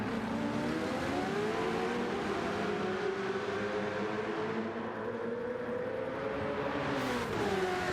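Toyota Group 2 race cars overtaking a Mercedes CLK in a racing video game, with steady engine drone and shifting pitch as the cars pass, fairly quiet and without talk.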